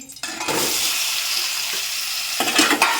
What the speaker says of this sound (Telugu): కొట్టి కోసేసిన టమాటాలు వేస్తా